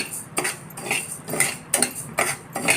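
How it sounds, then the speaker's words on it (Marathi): Everyday rice dry-roasts in a pan for metkut while a metal spoon stirs it, giving a series of close, rhythmic scraping rattles of grains against the pan, about every half second, with no talking. "आता हे तांदूळ टाकलेत मी भाजायला, ते पण चांगले भाजून घ्यायचे."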